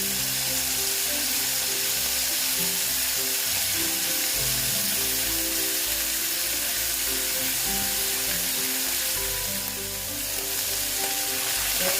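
Tangra fish frying in hot oil in a pan, a loud, dense, continuous sizzle close up, steady throughout with a slight dip near the end.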